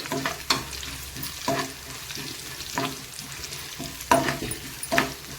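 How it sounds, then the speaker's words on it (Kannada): Curry leaves frying in a little oil in a pan, a steady close sizzle punctuated by several sharp bursts of stirring and spatula scrapes at irregular intervals. "ಸ್ವಲ್ಪ ಎಣ್ಣೆಯಲ್ಲಿ ಚೆನ್ನಾಗಿ ಫ್ರೈ ಆಗಲಿ ನೋಡಿ ಈ ಥರ ಫ್ರೈ ಮಾಡ್ಕೋಬೇಕಾಗತ್ತೆ"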